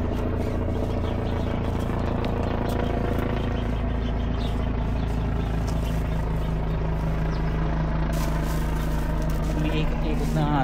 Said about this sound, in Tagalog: Ikot-ikot na ano, helicopter.